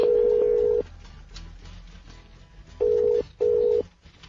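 A telephone sounds for an incoming call with a steady electronic tone, one longer buzz followed after a pause by two shorter ones in quick succession, clear and close over quiet background room noise.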